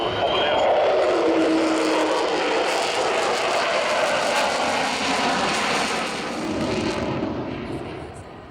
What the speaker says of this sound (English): And there you heard it, the fabulous Vulcan